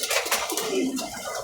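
Homing pigeons give soft, throaty coos close by, a brief murmuring call with a steady low background.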